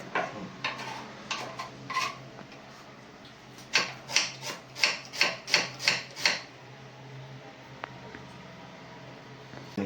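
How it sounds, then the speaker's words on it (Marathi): A knife finely chops onion on a board in a home kitchen, first with scattered cuts, then a run of about nine evenly spaced, close taps over a steady low background hum. "कांदा आपण बारीक चिरून घेतोय।"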